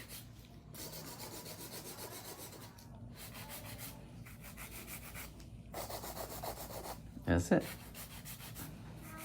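A nail file scrapes steadily back and forth, shaping acrylic nails built on natural nails rather than tips, in a continuous close rasping rhythm with brief pauses and a short spoken remark near the end.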